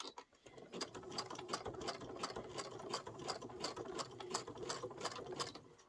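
A sewing machine running in zigzag mode stitches a heart monitor pouch, producing a steady, fast mechanical chatter of needle strokes at moderate volume, with no talking.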